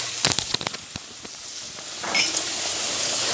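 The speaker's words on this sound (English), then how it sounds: "Okay, so I'm sauteing my onions." Onions sauté in canola oil in a pan, a steady crackling sizzle with a few sharp pops early on, swelling into louder hissing frying toward the end.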